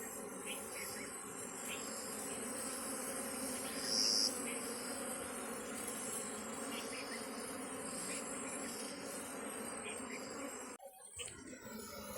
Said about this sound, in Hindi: जंगल से घर की तरफ मधुमक्खी ट्रांसफ़र करने का तरीका